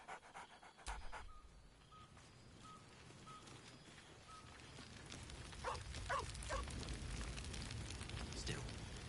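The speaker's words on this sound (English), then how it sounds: "Scratch barks merrily in something like agreement." A dog in the Baldur's Gate 3 video game pants rhythmically and gives a couple of short, bright barks, close and clear over a low background.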